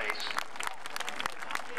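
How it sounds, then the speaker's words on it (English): Fans at a Stafford Speedway SK Light feature race applaud from the stands, a dense patter of clapping that runs for under two seconds, with crowd voices mixed in. "And the fans love it, showing their support, applauding"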